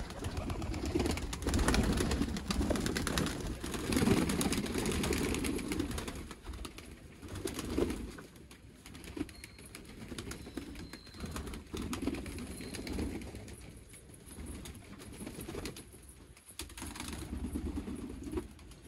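Umbrella-loft pigeons are let out of a large loft. Dense, continuous wing fluttering and rustling carry on throughout, with soft cooing mixed in and no talking.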